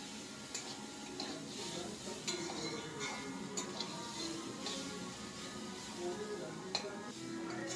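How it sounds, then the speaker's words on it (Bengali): Frying cabbage being stirred in a pan for a Bengali cabbage muri ghonto, with a steady sizzle and light clinking scrapes of a spoon against the pan at irregular intervals, fairly soft and close. "এইভাবে কপিটা নেড়ে চেড়ে"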